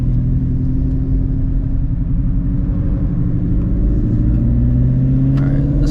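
A Shelby GT350 fitted with long tube headers and running on E85 makes a hard pull, its engine droning loud and steady with a rising tone over a deep rumble, heard from inside the car.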